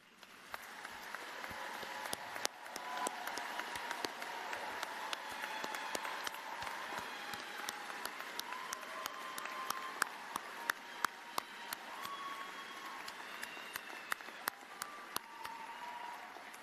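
A large audience at a university commencement ceremony applauds the faculty, a steady wash of clapping from many hands with sharper individual claps popping out, sustained throughout at moderate distance.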